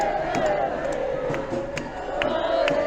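A protest crowd moves down a street in Ireland, a steady murmur of many voices with scattered shouts and taps, heard under a nearby voice talking.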